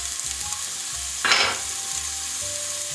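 Skinned sausage meat frying in sunflower oil, a steady loud sizzle with a sharp louder burst of crackling midway, likely as meat hits the pan or is stirred, no voices.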